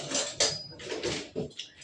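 A spoon stirs pecel, a peanut-sauce vegetable dish, in a plate or bowl. It makes a handful of irregular clinks and scrapes against the dish, fairly quiet and close, with no talking.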